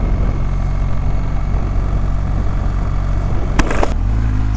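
A BMW 1300GS motorcycle riding in second gear at about 40, with a loud, steady engine drone and continuous wind and road rumble heard from the rider's position, and a brief clatter near the end.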